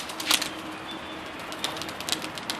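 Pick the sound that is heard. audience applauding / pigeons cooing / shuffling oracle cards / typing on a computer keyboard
pigeons cooing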